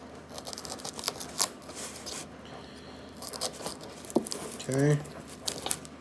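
A kitchen knife cuts around the stem of a spaghetti squash, then the hard-shelled squash is cracked open, with scraping, crunching snaps under a brief spoken word.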